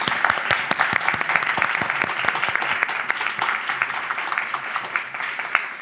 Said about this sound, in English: please a big round of applause for Daniela, Míriam, and Björn